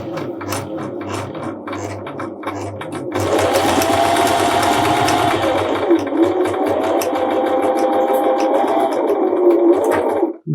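Fabric being stitched on a sewing machine, starting with slow, separate mechanical clicks, then a steady, fast whirring run of stitches for about seven seconds that stops abruptly at the end.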